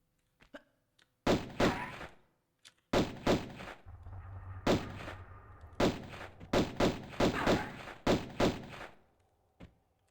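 Pistol shots in Tomb Raider I while the character jumps and fires, a string of loud, punchy bangs in quick pairs and clusters separated by short gaps, with a low hum under the middle section.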